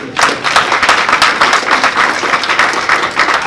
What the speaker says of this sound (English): give Tracy Syphax and his amazing wife a round of applause